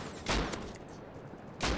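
Rocket blasts from an attack helicopter in the Rust video game, two loud broadband bursts, one at the start and one near the end, with a dense rumbling wash sustained between them.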